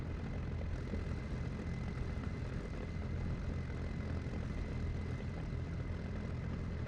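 A propeller aircraft engine runs, a steady, even drone that continues unbroken and sounds somewhat distant and muffled, with no voices over it.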